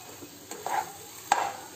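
A spoon scrapes and mixes potato filling for batata vada in a pan, two short scraping strokes with a light clink, close and quiet over a faint background hiss.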